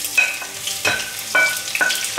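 Onions fry in a pan as the base of a sauce for oxtail stew, a steady sizzle broken by four sharp scraping stirs of a utensil against the pan at regular intervals, close and clear with no voices.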